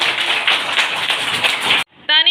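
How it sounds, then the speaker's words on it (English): Children applauding together in a school classroom, a dense burst of rapid hand claps lasting nearly two seconds before breaking off, then a short tonal sound at the end. "Clap for him."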